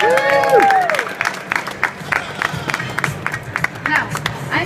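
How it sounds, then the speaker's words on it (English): An audience at the World Cezve/Ibrik Championship in Rimini, 2014, breaks into clapping and cheering for a Czech competitor, a burst of applause that thins into scattered claps among chatter. "Applause for our competitor from Czech Republic, Mrazova."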